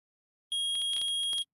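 Metal detector in the Ace Attorney game beeping rapidly, a steady tone followed by a quick burst of repeated bleeps, loud and with no talk over it.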